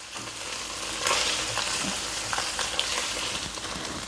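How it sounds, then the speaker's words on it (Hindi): Finely chopped mushrooms stir-fry in a pan over medium heat, with a close, steady sizzle and occasional scraping and stirring clicks. "इनको हल्का सा स्टर फ्राई करेंगे।"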